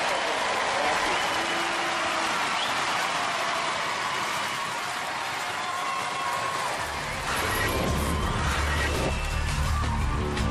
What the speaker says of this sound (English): a huge round of applause for all of our teams